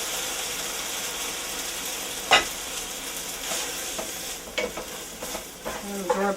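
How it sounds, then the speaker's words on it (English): Cooked pasta tossed into a hot frying pan with bacon, giving a broad crackling sizzle with a sharp clatter near the middle and scraping, stirring knocks toward the end, close by and with no talk. "Throw the pasta right into the pan."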